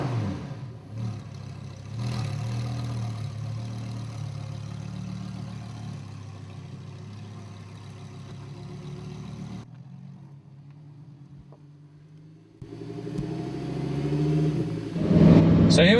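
A Lamborghini Huracan STO engine idles and then rises in a rev, with the gearbox audible as it works; the sound drops out near the middle, then returns with a louder, sharper burst at the end.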